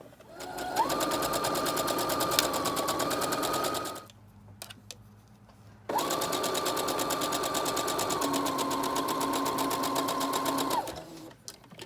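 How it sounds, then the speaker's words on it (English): A sewing machine stitches a half-inch turned-up hem along the bottom edge of a duster, running as a fast steady whirring rattle in two long bursts separated by a short quiet pause. "I'm just going to turn it up about 1/2 inch and stitch along the bottom edge."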